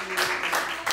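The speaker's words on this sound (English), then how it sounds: "let's give Fred, Ruben, and Julie a big round of applause for" Brief bursts of clapping from a small group, uneven and close, with a low hum underneath.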